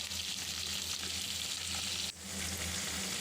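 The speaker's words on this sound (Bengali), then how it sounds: "লাল করে একটু ভেজে নেব, হালকা করে ভেজে নেব।" Chopped vegetables sizzle loudly and steadily in hot oil with a bay leaf and dried red chilies, a dense close frying hiss with a short dip partway through.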